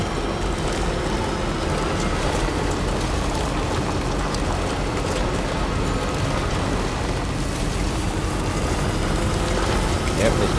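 Steady rain falls throughout in the video game Death Stranding 2, a constant dense hiss of drops with faint low rumbling underneath.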